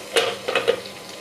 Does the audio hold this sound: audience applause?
no